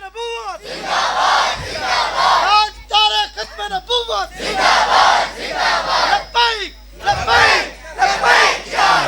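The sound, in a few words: crowd chanting a religious slogan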